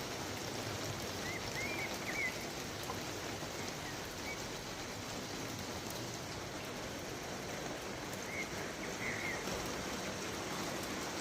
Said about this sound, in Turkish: Maşallah iyi yağıyor.